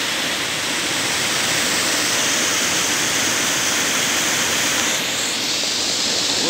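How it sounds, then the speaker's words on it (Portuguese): A small waterfall at the foot of a rocky spot pours in a steady, close, full rushing wash of water that holds constant throughout, with no voices over it. "Pé de cachoeirinha ali, bonitinho."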